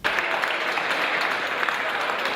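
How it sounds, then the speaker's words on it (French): Loud, dense applause from Argentine deputies in parliament, a thick unbroken wash of clapping from a large chamber with no one speaking. "Ces applaudissements nourris restent l'expression tangible du sentiment de soulagement qu'est celui de la plupart de ces députés."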